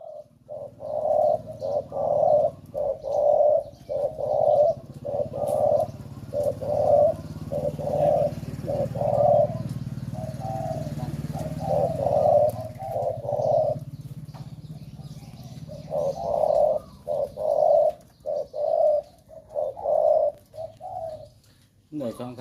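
A Thai decoy dove coos in a steady rhythmic series of repeated calls, near and fairly loud, with a short pause midway before the cooing resumes over a low background rumble.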